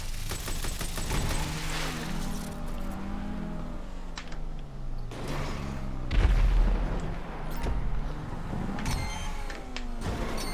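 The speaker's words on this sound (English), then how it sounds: "Oh shoot, he has bombs." Muffled bomb blasts in Grand Theft Auto V thud amid a constant engine-like drone, the heaviest boom landing mid-clip with other dull impacts scattered around it.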